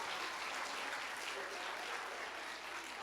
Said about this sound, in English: Give Daniel a round of applause because he's a decent person.